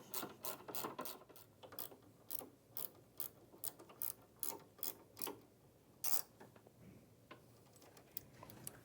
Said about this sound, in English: you can now tighten all 4 shoulder bolts, starting with the linkages